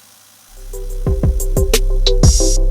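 Small electric motor of a Fly Porsche 917k slot car running in on a 9-volt battery, starting up with a thin whine and clicking, rattling bursts that build and stay loud and close.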